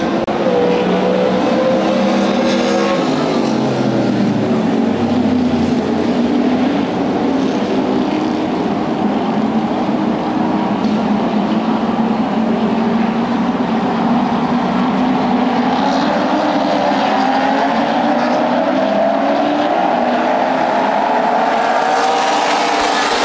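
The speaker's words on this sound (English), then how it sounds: "Racing for the final 6 laps of this feature event." Late model sportsman stock cars race at Indianapolis, their engines roaring loud and continuous, a thick blend of several cars with pitch swells as the pack passes.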